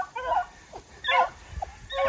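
Young hunting dogs on a rabbit track give short excited yips and barks, three or four quick bursts with brief gaps between them, heard outdoors at moderate distance.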